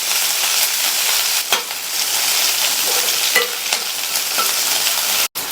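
Mustard seeds, urad dal, chopped medium onion and curry leaves sauté in hot oil, giving a steady close sizzle with occasional scrape and stir knocks throughout.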